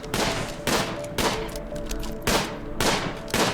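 Gunfire in a RimWorld colony as a colonist shoots turtles: five loud, sharp reports spaced irregularly, each trailing into a short decay over a faint background hum.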